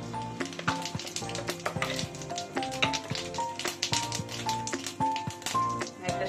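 Bay leaves and cumin seeds sizzle and crackle in hot oil in a pan, a steady near fry with scattered light taps and pops of utensils, no talk.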